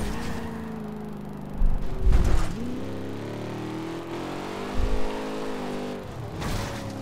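A '70 Camaro Z28 in Forza Horizon 2 launches with a little tire spin, its engine revving and climbing through gears in a steady roar, punctuated by a few brief thumps, heard close with no talking.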